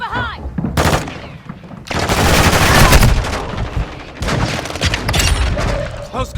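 Rapid bursts of gunfire from the mobile shooter Warzone Mobile, a shotgun among the weapons, come loud and dense, with game voices calling out between the volleys.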